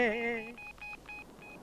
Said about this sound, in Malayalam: ഞാനൊന്ന് ഫോൺ ചെയ്യട്ടെ എന്റെ പൊന്നു മോനെ